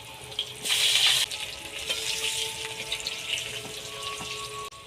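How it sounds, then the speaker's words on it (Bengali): Cut potatoes drop into hot oil in a pan just used for frying fish, setting off a sudden loud burst of hissing. It then settles into a steady, softer sizzle close by. "এবার ওর মধ্যে আমি কেটে রাখা আলুগুলো ভেজে নেব।"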